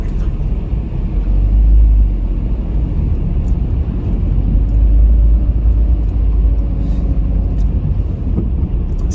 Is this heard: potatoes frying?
no